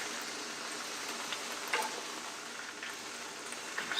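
Onions and vegetables sizzle on a Blackstone griddle in a steady, close, even hiss, with a few faint scrapes and ticks scattered through it and no talk.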